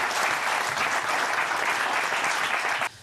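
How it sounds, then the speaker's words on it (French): A TV studio audience gives Gad Elmaleh a dense, steady burst of applause that stops abruptly near the end. "On peut applaudir Gad Elmaleh"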